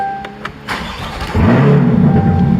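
A Chevrolet C8 Corvette starts after its ignition is cycled: a few soft chimes and clicks, then the engine catches with a loud low burst and settles into a close, rumbling idle.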